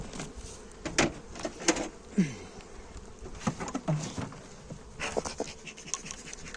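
Honeybees hum around an opened beehive colony in a soft, continuous drone, punctuated by scattered close clicks and knocks, probably from the hive lid and frames being handled.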